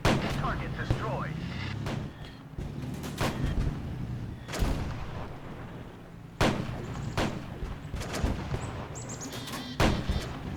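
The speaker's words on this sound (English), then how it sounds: "that tier 4 German tank. She's got some firepower, that's for sure" Booming cannon shots from a tier 4 German tank in a video game, several loud blasts at irregular intervals over a rumbling battlefield background.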